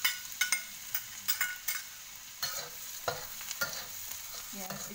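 Garlic frying in a pan while a spatula stirs it, giving sharp scraping knocks in an irregular rhythm over a bright, continuous sizzle, close and fairly loud with no speech.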